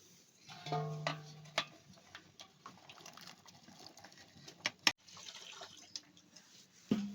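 Water runs and splashes into a pot for washing shevla vegetable, with scattered clinks, drips and soft knocks in a quiet room.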